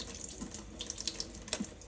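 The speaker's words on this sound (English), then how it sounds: "I drained the water off the eggs" Water drains off a pot of boiled eggs into a sink, a faint steady pour with light splashes and a few small clinks, no talking.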